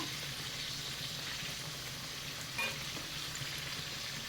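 Milk cake (pal cake) frying in hot oil, giving a continuous dense bubbling sizzle close by, fairly faint and even, with one brief soft stir partway through and no talk.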